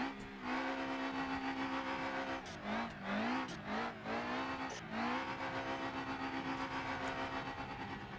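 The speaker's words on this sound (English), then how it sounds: "Clutch dump." Simulated race car in the BeamNG driving game launching on a clutch dump, a loud continuous engine drone with pitch sweeping through quick gear changes, alone without talk.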